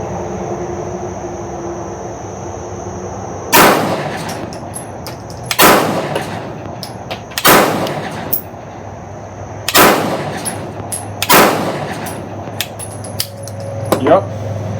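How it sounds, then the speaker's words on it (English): Unsuppressed gunshots from a 9mm carbine firing Winchester 147 grain ammunition at a shooting range, six loud sharp reports spaced a second or two apart, each with a ringing tail. "let's take a couple of shots without the can and see what it sounds like"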